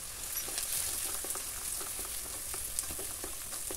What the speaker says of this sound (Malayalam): അപ്പോൾ ഇതാ നുറുക്കിയത് ഞാൻ ഈ എണ്ണയ്ക്ക് ഇട്ട് കൊടുക്കുന്നുണ്ട്.